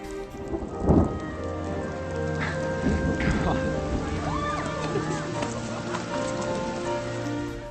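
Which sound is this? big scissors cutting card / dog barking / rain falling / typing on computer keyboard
rain falling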